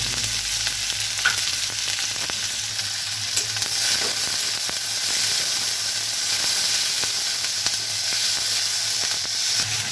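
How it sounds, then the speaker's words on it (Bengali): Chopped onions with cumin seeds sizzle in hot oil in a wok, a steady, close frying hiss with occasional stirring clicks, no talking. "পেঁয়াজটা ব্রাউন করে ফ্রাই করে নিতে হবে।"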